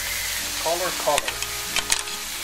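Tomatoes go into a pan of frying beef for carne con papas, setting off a steady hiss of sizzling with a few stirring scrapes, close and moderately loud, as a voice speaks briefly.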